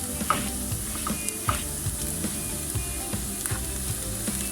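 Garlic and onions frying in a pan make a steady close sizzle, punctuated by regular light clicks and scrapes as a utensil stirs them through.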